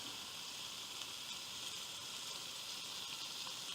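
Bacon slices sizzle in a cast iron skillet, a steady, bright, crackling hiss that stays even throughout, soft and alone with no talking.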